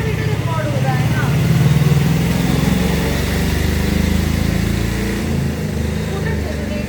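A scooter's small engine drones steadily past on a road outside, a continuous buzzing motor note that swells slightly and fades, with someone talking over it.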